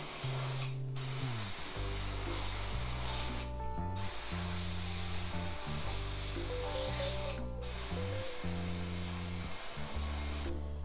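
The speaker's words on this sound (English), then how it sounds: "I'm just going to spray them all down really well from the top" A spray bottle mists potting soil prepared for pepper seeds, giving long, close hissing sprays broken by three short pauses, over steady background music.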